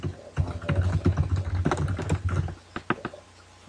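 Fingers tapping quickly on a computer keyboard at close range, a dense run of crisp key clicks that thins out into a few separate taps toward the end.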